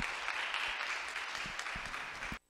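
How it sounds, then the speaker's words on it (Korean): An audience in a university lecture hall applauds to welcome a visiting professor before a special lecture. The clapping is dense and sustained, then stops abruptly near the end. "저희 모두 박수로 환영해 주시기 바랍니다."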